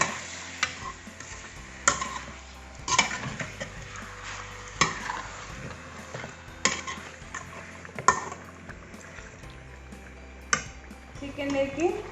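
Marinated chicken fries lightly in hot oil for a Mughlai chicken dish, a soft continuous sizzle broken by repeated clanks and scrapes of a spoon stirring against the pan, close up with no talk.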